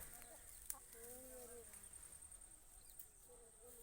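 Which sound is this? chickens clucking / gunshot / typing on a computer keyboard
chickens clucking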